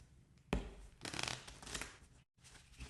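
Oracle cards being shuffled by hand for a tarot-style reading: a sharp riffle burst followed by a second longer rustling run of cards, close and quiet, with a brief pause near the end and no talking.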